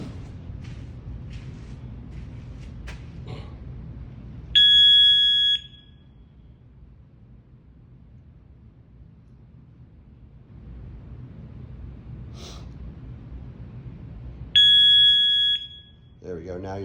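A gym workout interval timer sounds two long, loud steady electronic beeps about ten seconds apart, each lasting roughly a second, over low room rumble and faint background voices.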